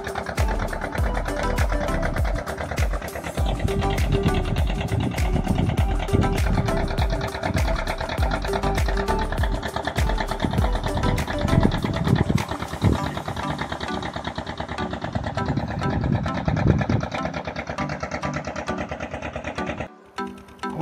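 Passenger boat engine running on the river at Farakka, a fast rattling motor chug that holds steady and fairly close for a long stretch before cutting off sharply near the end.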